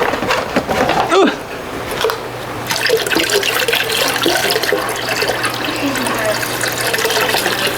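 Water pours and splashes steadily into a container, a rushing, gurgling stream that continues throughout at close range.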